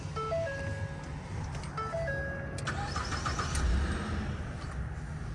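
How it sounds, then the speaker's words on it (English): A 2013 Ford F150 STX pickup with 103,000 miles, fitted with a non-V8 engine, idles with a low, even rumble, while a series of short electronic chime tones rings over it early on. "let me actually see if I can lower this window to give you a listen to the engine"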